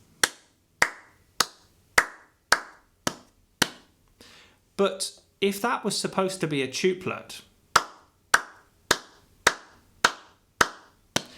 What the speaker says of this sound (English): it's a bit like me clapping a rhythm